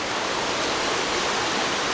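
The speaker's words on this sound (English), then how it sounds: "this is a really pretty waterfall." A pretty waterfall in Oklahoma pours into a small swimming hole, giving a loud, steady, full-bodied rush of falling water heard up close, with no voices over it.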